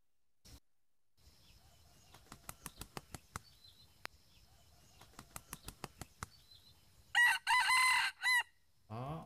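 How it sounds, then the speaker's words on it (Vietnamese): Jungle fowl crowing with a rooster-like call in the forest, preceded by a series of sharp clucks, then several loud, close crows near the end. "Đây là âm thanh gà rừng ấy."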